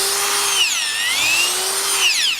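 A powered auger drills into clay soil, its motor whining loud and close, with the pitch dipping and rising again as the load changes against the clay.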